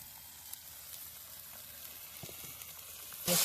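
Ginger garlic paste frying in hot oil for a Tamil-style duck curry, a steady low sizzle with faint crackles, and a louder hiss flaring up at the very end.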